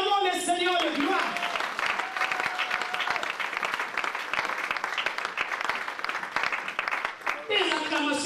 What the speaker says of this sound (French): Acclamons le Seigneur de gloire.